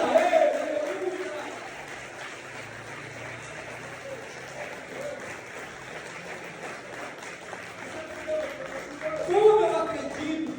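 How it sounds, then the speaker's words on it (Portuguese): Church congregation applauding during a sermon, a soft, steady patter of clapping running throughout with a louder swell near the end. "Aplauda Jesus com vontade, com alegria, aplauda ele, aleluia."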